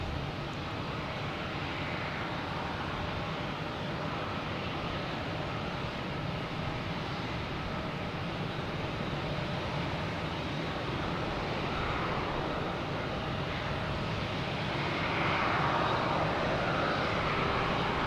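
A Lufthansa Airbus A340 passes by at Boston Logan Airport, a steady, moderately distant engine rumble that stays even throughout and grows slightly louder near the end.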